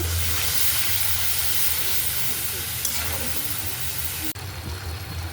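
A little water hisses and sizzles steadily in a hot pan of frying spiced food, a broad close-up steam sound with a brief knock near the end.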